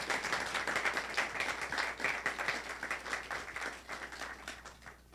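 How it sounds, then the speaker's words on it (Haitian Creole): An audience at a forum applauds with a moderate, fairly distant wash of clapping that slowly tapers off. "que je vous demande d'applaudir"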